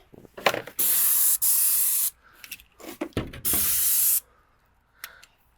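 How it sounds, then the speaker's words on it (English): An airless paint sprayer hisses in three sharp bursts spraying a fence, each a steady loud spray lasting about a second, separated by short pauses and small clicks. "Now get ready to spray this fence"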